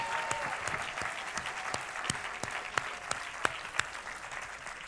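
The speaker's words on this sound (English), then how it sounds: "I think a round of applause for the signers." An audience claps steadily for sign language interpreters at a political event, moderately loud and sustained, with a few sharper individual claps standing out near the end.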